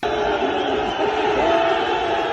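A street crowd in Belgium roars and cheers during the 2022 World Cup as a Moroccan fan climbs a building, a loud, unbroken mass of shouting voices.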